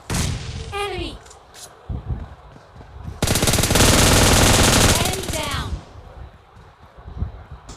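Automatic weapon fire in a mobile battle royale game in solo versus squad mode, with short bursts early, then a loud sustained volley midway, and game effects around it.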